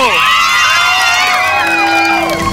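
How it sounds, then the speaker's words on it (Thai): A studio audience at a televised children's singing talent show audition in Thailand cheers loudly and steadily, a dense crowd roar with whoops and children's shouts throughout, with no clear speech over it. "ทุกคนครับขอเสียงเชียร์น้องเซนหน่อยเร็ว"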